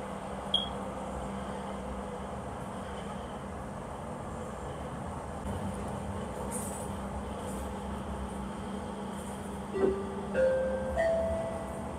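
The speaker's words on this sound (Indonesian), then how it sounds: "We are approaching final station Duku Atas" Commuter train running into Dukuh Atas station, a steady low rumble and hum inside the carriage with a few faint chimes and squeals near the end, no talk.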